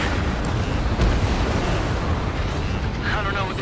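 A large ground target blows up in the Ace Combat 7 pipeline destruction mission, giving a loud, continuous rumbling roar of explosion and fire with a crackling tail, backed by game audio throughout.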